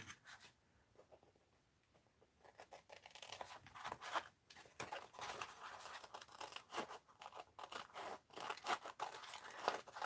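Scissors cut through tissue paper in a series of close, crisp snips and crinkles, starting after a quiet moment and continuing irregularly with rustling paper handling, no talking.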